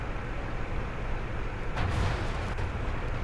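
A tank cannon in World of Tanks, firing from a Type 5 Ke-Ho light tank, booms once at close range over constant battlefield rumble, with a second, lighter thump following soon after.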